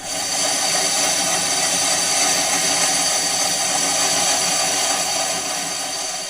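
A metal lathe makes a roughing or finishing cut on a chuck backplate, producing a loud, steady whirring hiss that holds evenly from start to finish without breaks.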